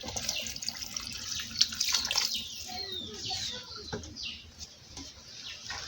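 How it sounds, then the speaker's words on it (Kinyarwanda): Water is poured into a cooking pot of ground cassava leaves with beef head meat, a steady splashing rush running throughout without talk. "Nongereyemo amazi."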